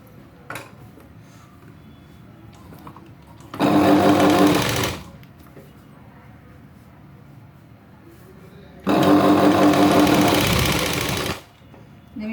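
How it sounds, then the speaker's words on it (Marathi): A sewing machine stitches a blouse lining in two loud, steady runs of rapid whirring, each a couple of seconds long, separated by quiet room noise. "आता आपल्याला या साईडनी शिलाई मारायची ब्लाऊज पीसवर"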